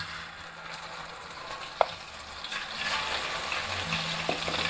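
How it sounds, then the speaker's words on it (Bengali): Rohu fish frying in mustard oil, heard as a steady close sizzle with soft bubbling that swells slightly partway through, with one sharp click and no talking. "তো মাছটা প্রথমে আমি ভেজে নিই।"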